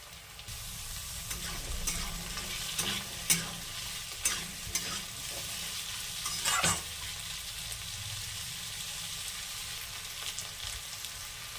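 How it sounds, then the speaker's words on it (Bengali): Diced potatoes frying with onions in a pan for jhinge aloo posto: a continuous close sizzle broken by several sharp scrapes and knocks of a spoon stirring through the pan. "এবার আলুগুলো দিয়ে দেবো ডুমো ডুমো কাটা আলুগুলো দিয়ে দেবো"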